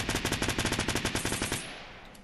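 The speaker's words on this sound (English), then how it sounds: "Shoot the sniper. Or shoot the submachine gun" Submachine gun fire in Fortnite: a rapid burst of about two dozen evenly spaced, loud shots that stops abruptly, leaving a brief fading tail.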